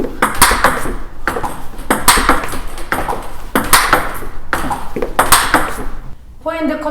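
A table tennis ball is struck again and again during a forehand cut stroke drill at a steady, brisk pace, each hit a sharp, close tap, with voices in the background.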